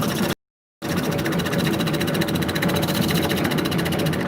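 A lathe runs steadily while turning a cup, giving a loud, constant mechanical hum with a fast pulsing flutter. A short gap of silence comes near the start, then the drone continues unbroken.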